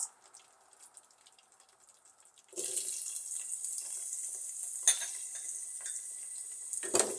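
Chopped onions drop into a hot pan of oil already frying cumin seeds, and after a quiet start a sudden loud, steady sizzle takes over, with a couple of sharp utensil clinks against the pan.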